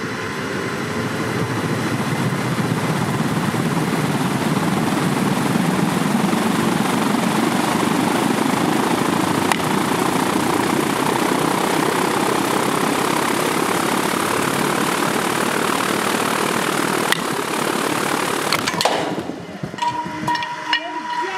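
The Mad Batter home run machine runs up to a loud, steady roaring whir that holds for about twenty seconds and then cuts off abruptly, followed by distant outdoor noise.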